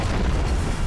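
A grenade explodes in the video game Turok, a dense low boom that fills the whole moment, loud and close with no talking over it.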